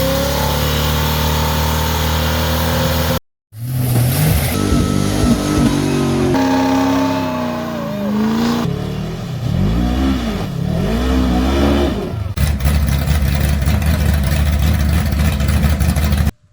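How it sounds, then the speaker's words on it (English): A Firebird engine revs hard and loud during a burnout, pitch rising and falling through repeated throttle blips, with a brief cut of silence near the start. "we're going to take a burnout break"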